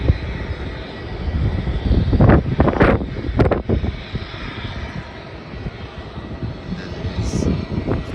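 A Qantas airplane taking off, its engine roar building and swelling with gusts of wind buffeting the microphone, while people talk nearby.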